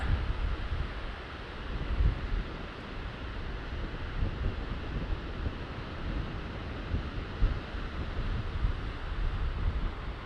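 Wind blows steadily outdoors while a mid-weight Fish kite flies, a constant low rushing roar with gusty buffeting against the microphone throughout and no voices.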